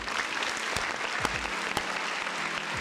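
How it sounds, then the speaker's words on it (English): An audience applauds for a live gaming show host. The clapping is dense and steady for about three seconds, with a few sharper thumps and claps standing out. "Big round of applause"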